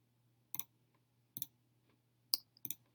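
A computer mouse clicks four times in quiet, sharp and close, with the last two coming in quick succession.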